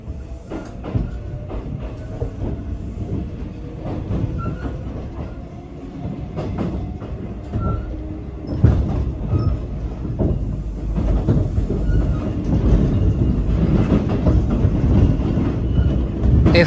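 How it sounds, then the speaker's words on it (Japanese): A Kintetsu semi-express train stands at Gose station while its cars are uncoupled, giving low rumbling, scattered mechanical clunks and faint squeals that rise in loudness toward the end, with no talking. "この駅で、切り離し作業が行われます。"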